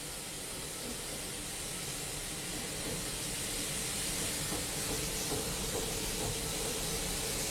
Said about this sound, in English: You can hear the steam going into the cylinders.